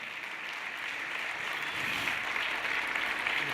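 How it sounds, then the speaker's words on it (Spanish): A crowd applauds a speaker named Ricardo at a corporate event, a continuous, moderately distant round of clapping that swells slightly partway through and holds steady. "Un fuerte aplauso para Ricardo, por favor."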